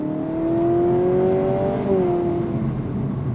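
A 2025 Honda Civic Hybrid accelerates on throttle, its loud, steady engine drone rising slightly in pitch and then easing down, as if through a simulated shift, heard from inside the car.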